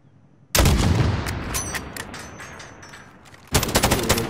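Loud gunfire from the video game Call of Duty: Warzone bursts out suddenly and then rattles in a sustained volley, and after a short lull a second burst of rapid shots breaks out.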